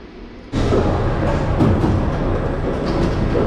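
Inside a moving train heading out of Paris, a steady loud rumble suddenly swells and then holds, with rail clatter and faint wheel squeal running throughout.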